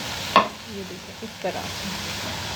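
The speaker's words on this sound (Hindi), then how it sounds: "बंद गोभी को अब हम इसमें सौते करेंगे।" Shredded cabbage sautéing over high heat in a pan for samosa filling, with a low steady sizzle, a couple of sharp stirring clinks and a brief spoken remark.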